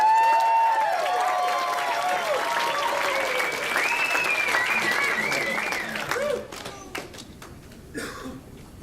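An audience applauds the band Ne'er-Do-Wells at a live show, with loud sustained clapping and crowd noise that thins out toward the end, mixed with cheers and voices.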